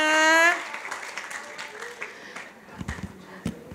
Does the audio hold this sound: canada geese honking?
no